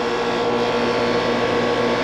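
A loud, steady whirring motor hum with a harsh, buzzing grind from an AC condenser fan damaged by a lawnmower, continuous and close.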